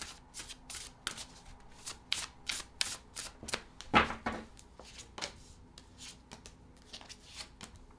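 Tarot cards are shuffled close by in a quick series of crisp riffling slaps and flutters that go on throughout, with one louder clack partway through and no talk.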